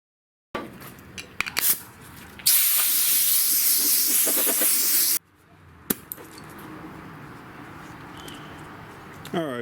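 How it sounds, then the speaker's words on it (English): Grinder working the low areas of car door bodywork to strip out paint, a loud hissing, abrasive burst for a few seconds among scattered clanks and handling noises, then quieter shop sounds. "I grind all of these low areas, make sure I got all the paint out"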